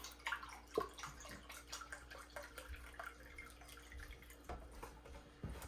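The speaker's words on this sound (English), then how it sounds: "Now I'm gonna pour a cup of this chicken broth." Chicken broth poured into a pan of tomato paste with grilled onions, garlic and peppers, a soft continuous trickle and splash, faint and steady, with small drips.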